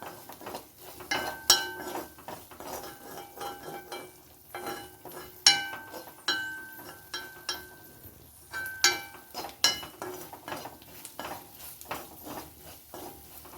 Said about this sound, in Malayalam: മുളക് പൊടിയും ഒന്ന് ഇളക്കി ജസ്റ്റ് ഒന്ന് മൂപ്പിച്ച് കൊടുക്കാം